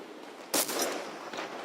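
A legendary infantry rifle fired in Fortnite, one sharp close shot followed by a fainter second report, short and punchy over a low steady game background.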